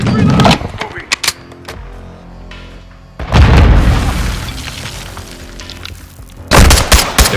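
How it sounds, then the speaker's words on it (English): In the Call of Duty: Modern Warfare prison-break mission, a frag grenade detonates with heavy booming blasts amid bursts of close gunfire, loud and punchy with brief quieter gaps between the explosions. "Throwing a frag!"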